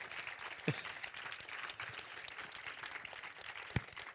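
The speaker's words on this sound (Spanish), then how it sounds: "yo le quiero aplaudir a Luis porque es que me parece grandísimo" Audience applause for Luis at a Spanish film academy event, a quiet, steady patter of crowd clapping with a couple of louder thumps, heard alone without talk.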